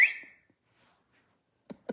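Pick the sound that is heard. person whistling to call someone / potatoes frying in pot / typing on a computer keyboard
person whistling to call someone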